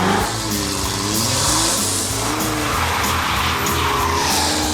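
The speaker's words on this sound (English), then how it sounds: "it's time to burn some tires." Tires of a brand new Land Rover Defender shriek in a sustained burnout, a loud continuous squeal layered over a roaring, revving engine for the whole stretch.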